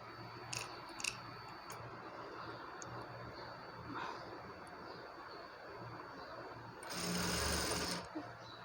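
A sewing machine runs a line of stitches through main fabric and lining cloth for a frilled long frock. Its steady mechanical whir sits under faint clicks and swells into a louder, faster burst near the end.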